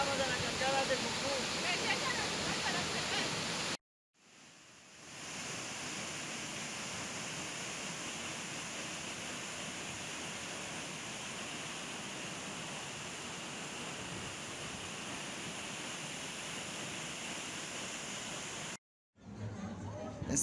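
A waterfall on the Quero river at the Mucú falls, a loud, steady wash of rushing, splashing water filling the whole clip, broken only by two brief silent gaps.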